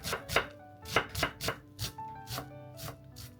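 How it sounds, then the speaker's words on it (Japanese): A kitchen knife finely mincing a Japanese long green onion that has been scored crosswise, about a dozen crisp, close chops on a cutting board in a quick uneven rhythm, with no talking. "端から細かく切っていくときれいなみじん切りになります。"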